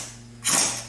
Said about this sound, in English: So I got my trusty old impact wrench here,